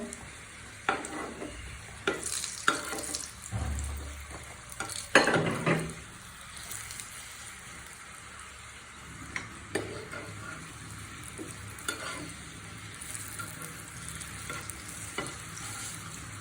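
Pumpkin fries in a pan for a Bengali bharta, a soft sizzle with a few louder spatula scrapes and knocks early on, then a quieter steady fry without speech.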